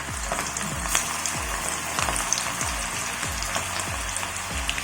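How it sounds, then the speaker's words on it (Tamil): Green mango pakoda batter dropped into hot oil gives a steady close-up deep-fry sizzle, punctuated by a regular series of soft thumps and splashes as pieces go in one after another. "இப்போ வாங்க எப்படி பொரிச்சு எடுக்குன்னு பார்க்கலாம்."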